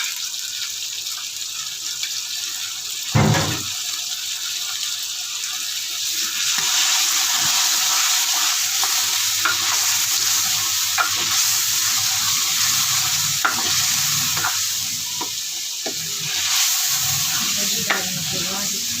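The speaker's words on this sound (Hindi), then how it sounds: "खाने के 4 चम्मच इसमें दही डाल देते हैं।" Yogurt, about four spoonfuls, going into a mutton karahi on high heat, giving a steady loud sizzle with intermittent stirring scrapes and clinks throughout, no voices.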